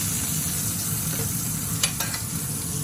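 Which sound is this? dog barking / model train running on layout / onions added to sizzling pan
onions added to sizzling pan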